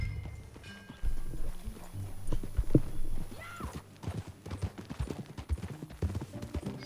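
A horse's hooves clip-clop steadily at a riding pace in the video game Red Dead Redemption 2, close and fairly loud, with a brief whinny partway through and no speech.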